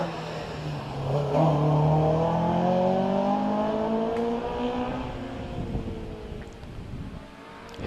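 Race car at the Prescott Speed Hill Climb passing close, engine note rising through the gears then fading up the hill, a loud sweep of acceleration followed by a receding drone.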